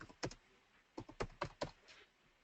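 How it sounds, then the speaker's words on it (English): Computer keyboard being typed on to enter a name, a short quiet run of clicking keystrokes close by, with no voices. "I'll just type in my name"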